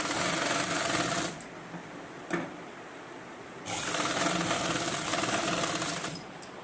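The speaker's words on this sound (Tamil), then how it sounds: "நேருக்கு ஒரு தையல் போட்டுக்கலாம்." Sewing machine stitching the collar of a government school uniform coat: loud, steady whirring runs in two long bursts with a quieter pause and a brief knock between them, close up, no talking.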